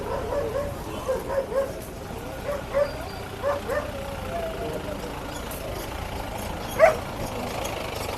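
Puppies barking at the Maghi horse fair in Sri Muktsar Sahib, heard as a string of short, moderately close yaps over a steady crowd and engine murmur, with one sharper, louder bark near the end.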